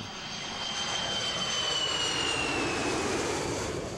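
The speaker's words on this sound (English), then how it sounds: "this British airliner with 115 passengers and some of Dr. Habash's armed men aboard appeared over Amman" A British airliner flying over Amman, a loud sustained engine roar that swells steadily as it passes overhead, with no voices.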